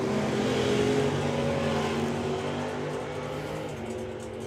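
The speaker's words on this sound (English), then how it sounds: "Nothing in it between those two muscle cars." Two muscle cars roar side by side in a drag race at a national finals event, a loud sustained engine drone with steady revving tones that eases slightly toward the end, no talk.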